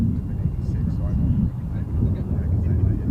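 A student-built model airplane flies laps of the course at the AIAA Design/Build/Fly competition, its motor a loud, steady, low drone close to the microphone, with people talking over it.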